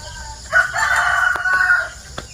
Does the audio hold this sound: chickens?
yes